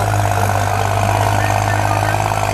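A New Holland tractor engine idles close by at a village trolley-pulling contest in a steady, low, throbbing hum that holds an even pitch throughout.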